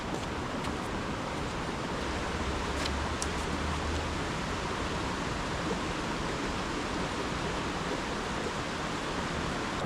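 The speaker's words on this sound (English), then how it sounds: "this is a pretty creek" A flowing creek near an abandoned Civil War era mill makes a steady, close, broadband rush of water that stays constant from start to finish with no voices.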